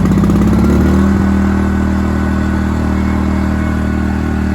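A small inverter generator rattles as it starts, then settles into a steady, loud mid-pitched hum close by with no talking.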